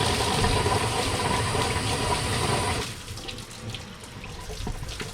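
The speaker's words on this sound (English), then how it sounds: "stick this flush gun right into the top hose. Let the water go through" Water rushes loudly through a flush gun pushed into the top radiator hose of a 2004 Nissan Sentra, a steady hissing gush that stops abruptly midway and is followed by quieter trickling and dripping.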